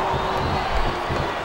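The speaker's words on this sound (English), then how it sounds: "And that'll get this crowd fired up." Wrestling arena crowd in the SmackDown vs Raw 2010 video game, a steady roar of cheering and shouting that swells slightly midway, with no distinct voices standing out.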